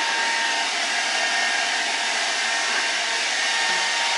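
A hair dryer blows steadily and loudly at close range while an Australian Shepherd puppy is groomed, one unbroken whoosh with no talking.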